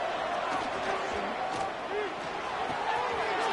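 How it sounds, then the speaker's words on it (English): A Boise State football stadium crowd roars loudly and continuously on third down, a dense wall of noise that holds steady for the whole stretch, with a voice talking over it. "This Boise State crowd bringing the noise. It's deafening here on 3rd down."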